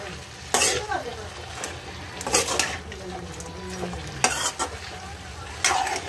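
Bataw beans and potatoes sizzle in a pan as a utensil stirs them, with several sharp scrapes and clanks against the metal over a constant hiss of frying, close up.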